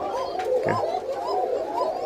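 A Tiger Banshiraj pigeon sits near its eggs and coos close up in a repeated, rolling, low rhythm that lasts the whole stretch.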